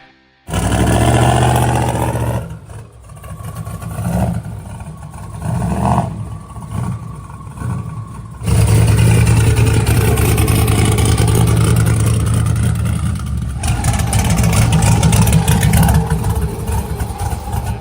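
No-prep 4x4 NASCAR truck engine revving loudly up close, surging through several throttle blips before settling into a sustained, heavy roar.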